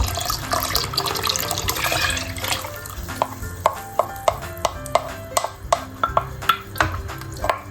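Half a liter of milk poured into a cooking pot over a lit stove for homemade dulce de leche dessert, a liquid pour followed by a series of sharp, rhythmic stirring clinks and splashes close by.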